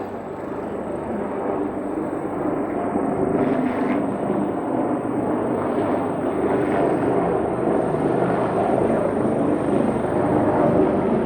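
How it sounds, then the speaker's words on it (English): Ornge medical helicopter passing over downtown Toronto after midnight, a steady broad rotor and engine drone that holds loud throughout amid city background noise. "That would be one of the Ornge medical shop or choppers."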